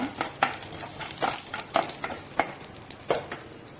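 Urad dal and dried red chilli fry in a pan, stirred with a spoon that scrapes and clicks in steady strokes over a continuous close, bright sizzle.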